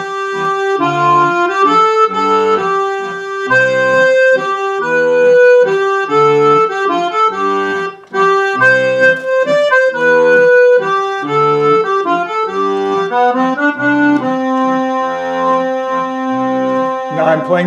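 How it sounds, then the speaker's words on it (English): A Roland FR4X digital accordion on an 8-foot clarinet reed registration plays a flowing waltz melody with chordal accompaniment, reedy and bright, with a brief pause near the middle. "So that's why I used the 8-foot or clarinet reed, and so it sounds like this."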